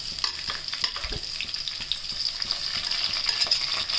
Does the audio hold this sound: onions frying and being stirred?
yes